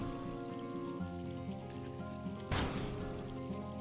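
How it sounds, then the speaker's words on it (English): Rain falls in the HavenDock video game, a soft continuous patter layered over tonal game music, with a brief louder burst partway through. "Oh, it's raining."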